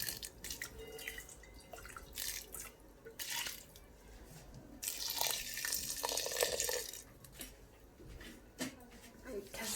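Water from rinsing a rice bowl is poured into a pot of boiling water while cooking vegetable rice, with uneven splashes, drips and trickles coming and going over about ten seconds at moderate, close range.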